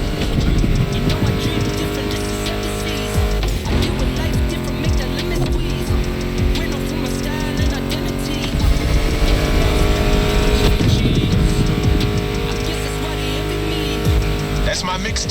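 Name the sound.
muscle car engines in video game The Crew Motorfest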